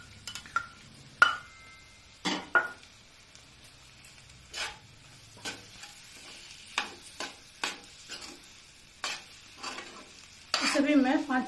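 Ginger garlic paste frying in a pan, sizzling under repeated sharp scrapes and stirs of a spoon that land in uneven bursts, ending in a louder flurry of stirring.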